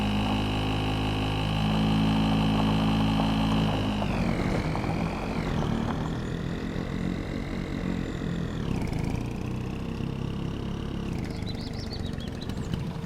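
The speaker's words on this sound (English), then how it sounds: "Is that the only tractor I've got here?" Steady tractor engine drone in Farming Simulator 25, loud and continuous, with a few rising whines as the revs shift partway through and no talking over it.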